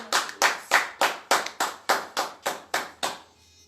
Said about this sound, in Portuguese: Glória a Deus e aplaudir o Senhor.